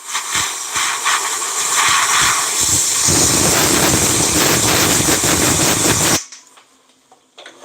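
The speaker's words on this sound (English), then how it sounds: "I'm just going to take a little air and blow dry it" Compressed air blasts loudly and steadily across a wet carburetor slide on a Honda TRX 450 during an accelerator pump fix, a broad hiss with a brief rumble before it cuts off abruptly near the end.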